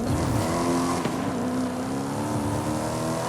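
A supercharged Cadillac CTS-V Wagon in Forza Horizon 5 drones with a steady, loud engine note that holds and slightly shifts in pitch throughout, with no talking.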